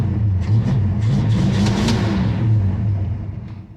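A 1969 Dodge Dart GT engine, running on a hot day with its automatic choke disconnected, idles close by in a steady low rumble, with a slight rise in revs partway through before settling.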